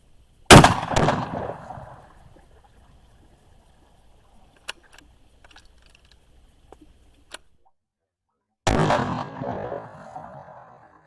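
A 6.5 Grendel rifle loaded with Hornady Black ammunition fires while deer hunting. Two loud, sharp reports ring out, one near the start and one near the end, with a long quiet stretch between them.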